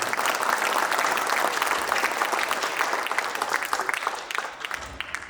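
Dense, continuous clapping from an audience in an auditorium at an inauguration ceremony for a training academy, loud and sustained before tapering off near the end.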